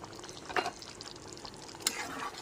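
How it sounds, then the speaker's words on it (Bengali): A spoon stirs simmering paneer gravy in a pan just after roasted spice mix goes in, soft bubbling under two sharp scrapes of metal against the pan, close and alone. "ভাজা মশলাটা দিয়ে আরেকবার ভালো করে নেড়ে চেড়ে নেব।"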